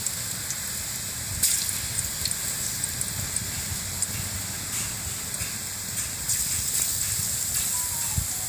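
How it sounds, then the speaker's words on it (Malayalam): Garlic frying in hot oil makes a steady hissing sizzle, moderately loud and close, with light crackles and a few faint clicks of a spoon or pan, with no talk. "അപ്പോൾ ഇനി എണ്ണ ചൂടാവുന്ന സമയത്ത് നമുക്ക് വെളുത്തുള്ളി ചേർക്കാം"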